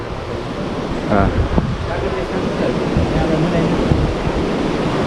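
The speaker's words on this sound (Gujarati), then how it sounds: "તો અહીંયા એટલે ધોધ પડે છે" A waterfall at a shrine gives a steady, loud broadband rush that fills the whole span, with a brief spoken word in the middle.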